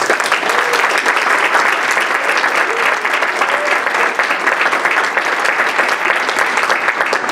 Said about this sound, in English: Please give Ms. Shackley a round of applause